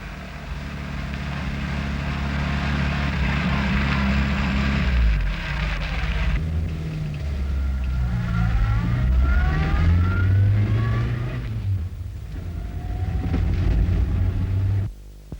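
A car on a 1959 overland expedition through Africa toward the equator drives with a steady engine drone that shifts pitch as it changes speed, close and continuous, with no talk.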